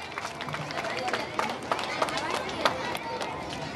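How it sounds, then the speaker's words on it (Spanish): Audience at a school September 15 celebration claps steadily to welcome children dancers onto the floor, a dense, continuous patter with a few sharper individual claps standing out. "Que se escuchen esas palmas para recibir a estos grandes del baile."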